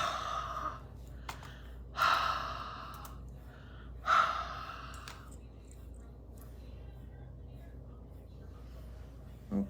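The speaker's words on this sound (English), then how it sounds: "you can re-moisten that ink by just holding it up to your breath and huffing" Three short, forceful breath huffs exhaled onto an inked stamp to re-moisten it, spaced about two seconds apart, close and fairly loud, with a final faint breath at the end.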